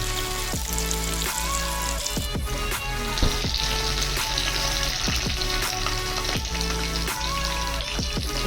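Chicken nuggets deep fry in hot oil with a steady crackling sizzle, close and continuous, alongside faint stirring and background music.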